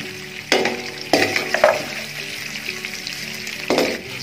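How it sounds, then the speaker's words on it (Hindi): Meat frying in hot oil for an Afghan Kabuli pulao, a steady close sizzle with a few sharp stirring clatters and bursts, no talk. "इसी ऑयल में गोश्त फ्राई कर लेते हैं"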